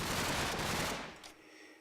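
An AK assault rifle in Minecraft with the FlansMod mod fires a loud, dense burst of rapid automatic shots lasting about a second, then cuts off into a quieter tail.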